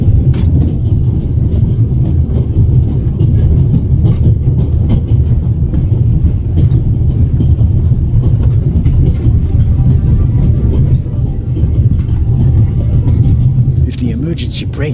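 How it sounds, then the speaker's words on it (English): A loud, continuous low rumble of a moving train in the video game The Raven: Legacy of a Master Thief fills the scene, steady and close, with faint clatter on top and a voice talking briefly. "How can I stop the train?"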